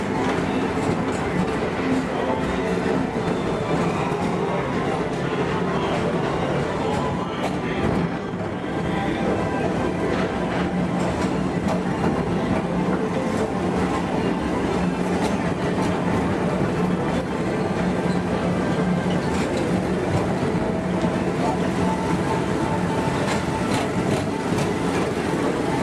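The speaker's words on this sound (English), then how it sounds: "Please keep forward-facing tentacles clear of oncoming Metroliner vehicles." Tomorrowland Transit Authority ride vehicles at Walt Disney World glide along the track with a continuous low rumble and soft clatter, under background chatter and ambient park noise.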